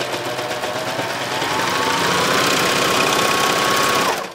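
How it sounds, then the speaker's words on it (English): A sewing machine stitches straight across the corner of a box bag, a loud continuous close-up whirring hum with a rising pitch that holds steady for about four seconds, then stops abruptly. "just sew straight across"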